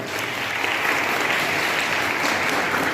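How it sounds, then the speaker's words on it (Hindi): Loud applause from students at a World Tribal Day school program at JNV Akkalkuwa, a thick, steady wash of clapping from many hands, even in volume throughout, with no talking. "वेरी गुड बेटा, जोरदार तालियां।"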